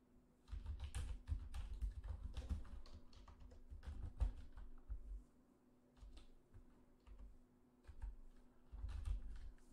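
Keys clatter on a computer keyboard in irregular bursts of close, crisp taps with short pauses between runs, alone with no speech.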